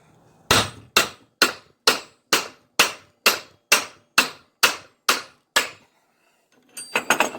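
A hammer whacking a threaded nut fitted back on a Briggs engine part to knock it loose, eleven sharp metallic blows at an even, brisk rhythm, a brief pause, then a quick flurry of lighter hits.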